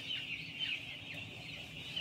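Many chickens cluck and chatter together in a steady, crowded murmur, with a few higher calls standing out over the continuous flock noise.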